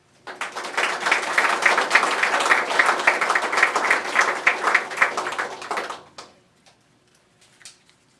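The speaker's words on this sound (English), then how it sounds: "Give him a round of applause." An audience at a ribbon cutting for a learning center in Hebron bursts into loud, sustained clapping for about six seconds, then it fades into near silence.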